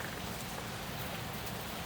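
Heavy rain pouring down steadily, a dense unbroken hiss of drops drumming on surfaces with no voices.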